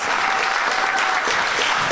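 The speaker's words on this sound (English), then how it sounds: "Let's give them a round of applause." Steady, dense applause from a crowd, continuous and fairly loud throughout with no pauses.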